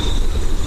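A barn owl gives a harsh, rasping screech, one continuous loud call heard up close with no other sounds.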